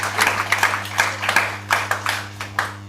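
Audience clapping at a business talk, a small burst of scattered hand claps with uneven rhythm over a steady hum, fairly close and with no one talking.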